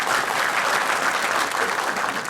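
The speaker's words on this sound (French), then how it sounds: "il mérite aussi vos applaudissements" A room full of people at a university talk on 2020 tax law claps steadily, a dense, even wash of applause lasting a couple of seconds without a break.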